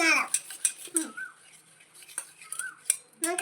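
A spoon stirs sugar into pancake batter in a bowl, giving scattered clinks and scrapes against the dish, while a voice and another voice chatter over it at close range.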